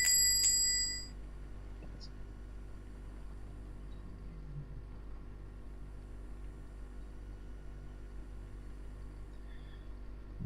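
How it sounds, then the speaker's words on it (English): A single bright bell rings out at the start, sharp and close, then fades into a low steady room rumble. "jump from the sound of the bell cutting through the stale air"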